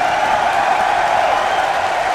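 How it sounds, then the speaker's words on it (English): Arena crowd applauding a professional wrestling legend, Kurt Angle, at a WCPW event: dense, steady clapping and crowd noise sustained throughout, loud and continuous with no pauses. "give this legend a round of applause that he deserves"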